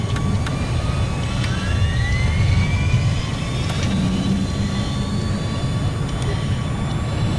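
A fighter jet in flight in the video game Battlefield 4 roars with a loud, sustained engine whine and rushing air, and a few rising tonal sweeps come through partway, with no speech.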